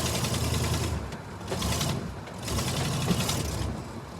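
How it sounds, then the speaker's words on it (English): Sticky transmission on a worn vehicle with weak brakes, grinding in a repeating mechanical rasp that swells and fades roughly every second, close and fairly quiet with no talking. "Oh, sounds like transmission sticky."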